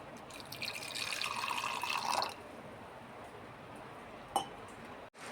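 A gooseberry-sized lump of tamarind is placed in water in a home kitchen for making rasam, a faint splashing, running trickle for about two seconds, then quiet with a single small tap.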